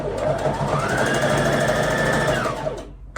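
Close, loud whir of an LX17 sewing machine running a straight stitch through fabric, a steady buzzing motor drone that holds for about three seconds before cutting off abruptly.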